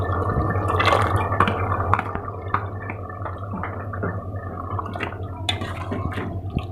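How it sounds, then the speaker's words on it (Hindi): Beaten yogurt poured into tripe curry (ojhri salan) cooking in a pot, giving a steady wet bubbling and gurgling sizzle with small drips and splashes throughout, moderately loud and close, no talking. "अब हम इसमें दही डालेंगे।"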